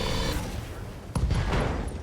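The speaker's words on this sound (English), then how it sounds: "Heavy rifle ammo explosion there is huge" A heavy rifle ammo explosion in RogueTech, a sudden sharp blast followed by crackling rumble amid a dense, loud mix of game sound.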